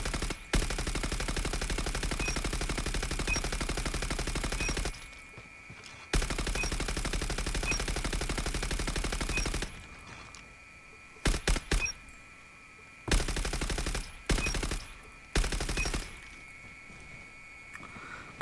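Sustained bursts of light machine gun fire in a first-person shooter, with long continuous strings of rapid shots broken by shorter stuttering bursts and brief pauses, loud and close.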